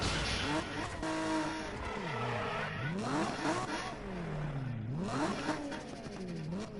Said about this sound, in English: Look at the sound of this car